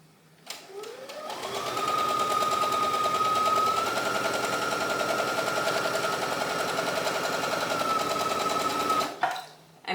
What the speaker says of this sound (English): now we're just gonna sew channels every 1/2 inch through both layers